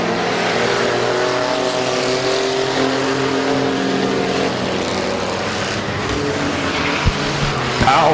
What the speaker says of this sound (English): Powell gets a lot of brake smoke, got into Gerber just a little bit through 1 and 2.